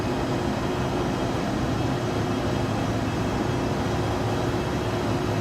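Airliner engines held at full throttle during cruise in the X-Plane 12 flight simulator, an American Eagle shuttle jet on VATSIM: a steady, unbroken broadband roar with low rumble, constant and loud throughout, no voices.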